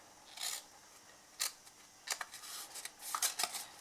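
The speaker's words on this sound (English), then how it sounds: "we're going to cut that corner away" Scissors snip the corners off a card gift box, giving a few short, crisp cuts spaced apart and fairly quiet.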